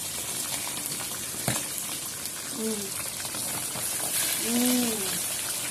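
Salmon frying in a pan, a steady hissing sizzle running throughout, with a voice speaking briefly over it partway through.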